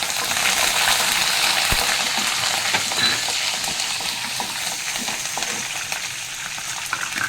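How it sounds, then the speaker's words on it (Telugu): Cashew nuts frying in hot oil in a pan, a steady loud sizzle with a few stirring clinks, no voices. "తీసుకున్న జీడిపప్పులో కొన్ని ఉంచుకొని ఇలా వేయించుదాము"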